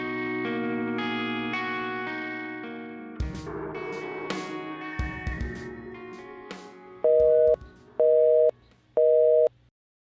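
A mobile phone call fails to connect because the other phone is switched off, giving a tonal ringback melody, then a recorded prompt, ending in three loud, evenly spaced beeps of an unreachable-number tone.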